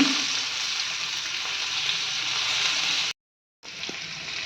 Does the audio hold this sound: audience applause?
no